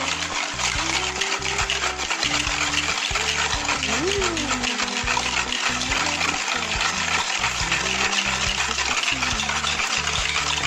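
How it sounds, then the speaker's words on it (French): A whisk stirs sugar into yogurt in a glass yogurt pot for a homemade yogurt cake, a steady loud scraping and sloshing that runs without a break for the whole stretch, with faint voices now and then in the background. "Et du coup, je vais fouetter."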